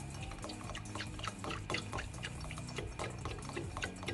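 Starch, sugar and water mixture poured into a pot of rice pudding, a faint continuous liquid splashing and trickling sound with small drips, no voices.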